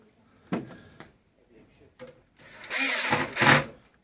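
A power drill drives screws into the swinging front crossbar of an automatic cradle frame, with a short burst early on and a longer, louder whirring run near the end, separated by small clicks and handling sounds.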